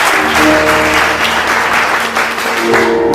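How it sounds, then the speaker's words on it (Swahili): A church congregation applauding during a service, loud continuous clapping close by that holds steady throughout, with a faint hum of voices underneath. "Pigia Yesu makofi mazuri."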